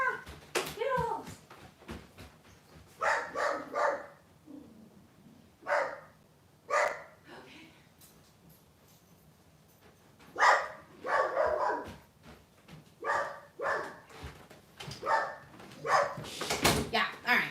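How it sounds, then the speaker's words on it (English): A dog barks in repeated bursts at a home, reacting to a lawn-care crew outside, with several loud barks spread across the stretch and quieter pauses between them. "She's gonna bark for a little bit."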